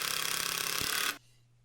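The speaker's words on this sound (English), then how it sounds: "I screw the tops onto the triangles" A power screwdriver drives screws into the wooden tops of triangular ski stand supports: a loud, steady whir with a short thump near the end, then it cuts off abruptly.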